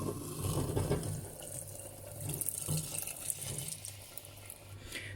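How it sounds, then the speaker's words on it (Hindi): Water poured steadily into a cooking pot of katwa gosht (cut goat meat) on the stove, a continuous splashing, gurgling stream close up, with faint clinks near the end and no talking. "इस पानी को हम ऐसे डालेंगे"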